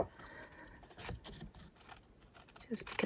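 Paper is cut with scissors at close range, a few quiet snips and rustles spread over a few seconds, no talk heard.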